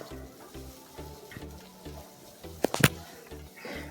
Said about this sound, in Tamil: தேவையான அளவுக்கு கருவேப்பிலை சேர்த்து அது வதங்குறதுக்கு தேவையான அளவுக்கு உப்பு சேர்த்து வதக்கிக்கலாம்